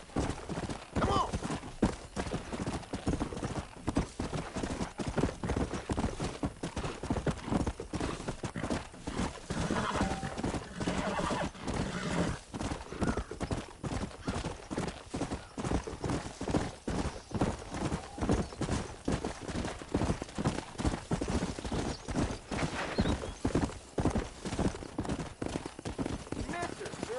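Hooves of a horse in a western video game clip-clop steadily at a gallop throughout, with occasional neighs and whinnies over the rhythmic pounding.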